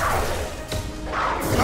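An enemy blowing apart in Mass Effect 2: a short crashing burst with a whooshing tail, followed by a second softer impact, brief and close amid game noise.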